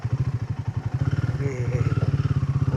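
A Royal Enfield Himalayan 450 motorcycle is ridden on a scenic road toward Kalimpong. Its engine thumps in a steady, close rhythm that picks up pace slightly, with light clatter over it.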